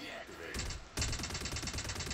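Rapid spaceship cannon fire from a Vanguard ship in the Star Citizen game, a dense repeating burst of loud, evenly spaced shots running steadily after a brief swell of noise at the start.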